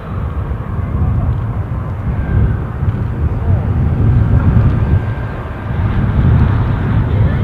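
An Embraer aircraft pushes back at Newcastle International Airport, its steady low engine rumble filling the recording with wind buffeting the microphone and a voice talking over it.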